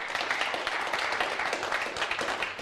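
Audience applause after a property sells at a real estate auction, a dense steady patter of many hands clapping throughout, fairly loud and continuous with no pauses.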